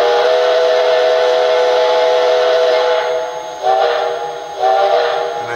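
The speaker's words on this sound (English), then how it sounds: "And I do like the whistle." A Lionel Reading & Northern 425 model steam locomotive whistle blows in a long, loud, steady chord, followed by two shorter toots close by.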